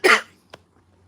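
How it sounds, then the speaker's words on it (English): A single close, sharp cough from a person outdoors in an evening garden, a brief burst followed by near silence with a faint outdoor hush. "Apologies for the cough."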